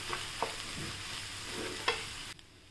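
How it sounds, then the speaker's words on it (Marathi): Semolina is stirred and roasted in a pan for buttermilk upma, giving a soft continuous scraping with a light sizzle and a couple of sharp utensil taps, close and quiet, no voices. "रवा टाकून परतून घेऊया 2 मिनिटं"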